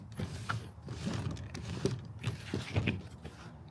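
A cartridge filter is screwed onto the threaded halo of an aquarium gravel vacuum, making soft creaking, scraping and clicking turns in a quiet, close rhythm.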